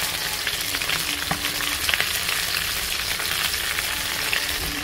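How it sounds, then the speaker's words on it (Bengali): Pieces of rohu fish fry in hot oil until reddish brown in a village kitchen, giving a steady, dense, close sizzle that runs unbroken throughout with no voices. "এখন আমার মাছটা একদম লাল লাল করে ভেজে নিচ্ছি।"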